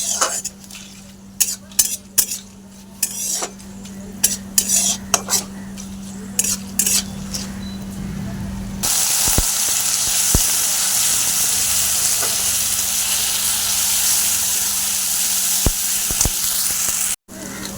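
Sizzling and scraping in a pan, then a sudden loud burst of hissing as spices hit hot oil and keep crackling steadily, with a few utensil clinks.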